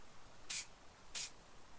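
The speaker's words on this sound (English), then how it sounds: "what is really important when you're using a rattle can is you don't spray it in one long spray" Two short, quick bursts from a rattle can of primer onto a miniature, each a crisp hiss about a quarter second long, separated by a brief pause, fairly close and alone.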